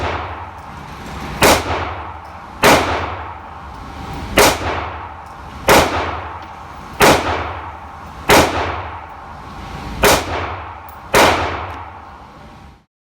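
Ruger MAX-9 pistol fired in seven sharp, evenly spaced shots about every one and a half seconds, each a loud crack followed by a short decaying echo, with no talking.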